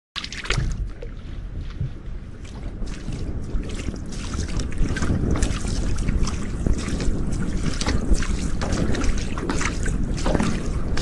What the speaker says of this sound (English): The constant rhythmic splashing of his heavy wooden oars is the only sound in this immense wilderness.